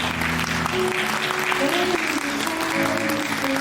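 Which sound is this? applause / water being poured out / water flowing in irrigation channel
applause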